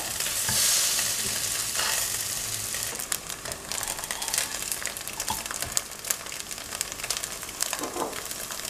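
Tofu sizzles steadily in a hot pan while a utensil scrapes and stirs it, with busy clattering throughout.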